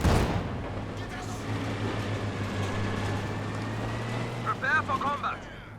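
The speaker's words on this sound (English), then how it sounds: "The next walking Stuka barrage though." A walking Stuka artillery barrage in Company of Heroes 2 rumbles on steadily under a low engine drone, with a cluster of sharp blasts near the end while a commentator talks over it.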